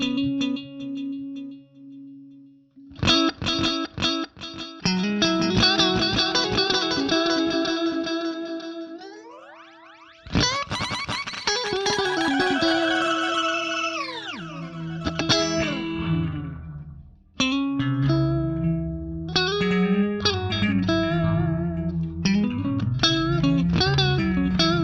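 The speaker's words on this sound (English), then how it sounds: "So we've got the psych delay. This is like a psychedelic delay, which has got a little bit of sort of pitch shifting on there." Electric guitar through a psychedelic delay effect with pitch shifting in Guitar Rig 6, notes and chords smearing into repeating echoes that bend in pitch, loud and continuous with several phrases and gaps.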